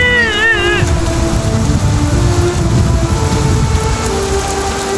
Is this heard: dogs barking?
no